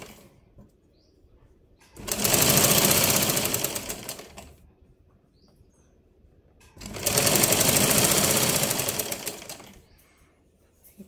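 Sewing machine stitching blouse cloth in two long bursts of steady, fast whirring, each lasting about two to three seconds, separated by quiet pauses with faint background noise.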